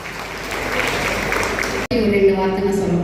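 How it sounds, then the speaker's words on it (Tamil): Audience clapping at a Bharatanatyam arangetram at Sivalaya dance school, a dense burst of applause that cuts off abruptly before a voice begins speaking. "கண்டிப்பாக அதில் கைத்தட்டி உற்சாகம்."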